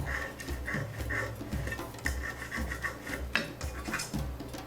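A pencil or marking tool scratches a measurement line onto a wooden workpiece for a router table bench, giving quiet, repeated short rubbing strokes close to the microphone.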